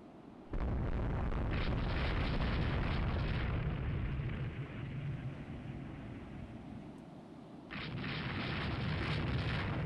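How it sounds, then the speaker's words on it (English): Torpedo hits on a ship in Rule the Waves 3: a deep, rumbling explosion swells suddenly and roars on for several seconds, then a second blast bursts in near the end, muffled and heavy. "The Ark just ate two torpedoes."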